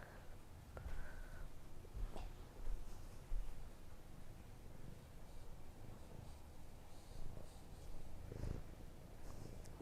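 A cat purrs softly and steadily at close range during an indoor yoga session, with faint rustles and small bumps in the room and no speech.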